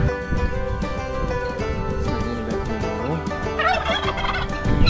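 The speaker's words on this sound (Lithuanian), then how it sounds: "Ir žąsiukai kieme" Young geese in a farmyard, a dense chorus of gobbling, honking fowl calls running steadily throughout, fairly close and loud, with no talking.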